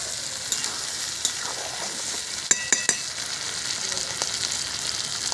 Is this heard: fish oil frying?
yes